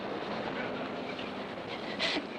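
A train pulls into a station in a continuous low rumble of wheels and rolling cars at moderate distance, with a brief brighter hiss near the end and no talk.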